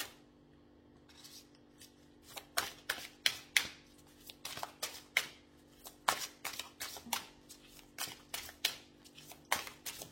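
Tarot cards being shuffled in rapid, crisp riffling bursts, with a few quiet pauses early and then a dense run of snapping card flutters close by.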